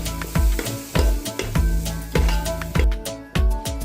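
Green chili paste sizzling in hot oil for chicken pulao as it is stirred in, with rhythmic spoon scrapes and hiss in quick repeated strokes, close and loud.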